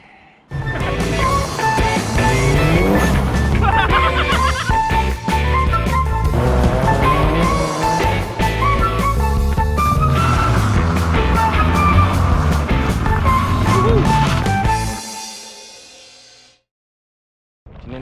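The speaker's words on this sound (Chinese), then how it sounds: "可以来到这个私人的货柜场，开车子了" A Mitsubishi Lancer Evolution V (CP9A) driving and drifting around a private container yard, the engine loud and close with revving and shifting pitch throughout, cutting off near the end.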